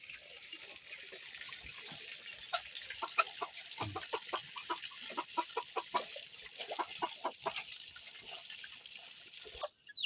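A native and labuyo junglefowl crossbreed rooster clucks in a run of short, repeated calls that rise in the middle, set against a steady hiss resembling running water.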